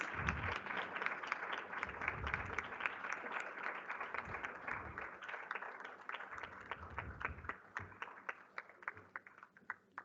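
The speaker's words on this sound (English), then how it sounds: "A big round of applause for Mrs." An audience applauds at a school Ethics Bowl finals ceremony as a guest is honoured. Dense, steady clapping from many hands fills the room, then thins into scattered individual claps toward the end.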